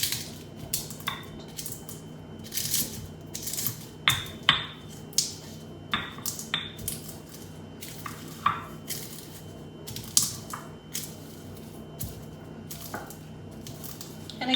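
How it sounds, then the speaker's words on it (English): Cardamom pods and cloves being crushed in a mortar and pestle, a steady series of sharp, hard knocks and grinding crunches repeating about once a second, fairly close, with a faint background hum. "So I'm just going to add those to the mortar and pestle here and crush them up a bit."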